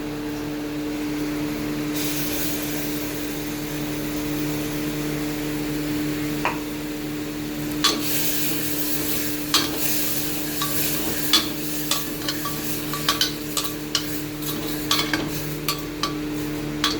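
Tomato paste stirred and fried in a pan, with a steady sizzle and frequent scraping, tapping strokes of a spoon against the pan that grow busier toward the end.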